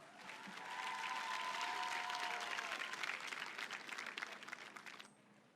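A ceremony audience at the Prime Minister's National Youth Awards for Excellence applauds in a dense, even wash of clapping that swells, holds and fades out.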